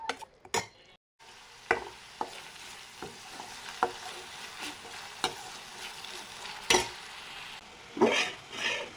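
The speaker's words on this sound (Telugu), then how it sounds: "ఆనియన్ పేస్ట్ లో ఫ్లేమ్లో బాగా వేయించాలి." Onion paste and spices fry in hot oil in a pan, giving a steady sizzle broken by repeated scrapes and knocks of a spoon stirring against the pan, close up and with no talk.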